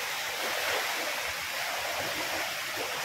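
Floodwater after rain rushes near a bridge by flooded farm fields, a continuous broadband roar of flowing water, steady and fairly close, with no voices.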